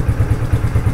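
A motorcycle engine, just started and still cold, idles close by with a loud, steady low thumping pulse and light mechanical clatter.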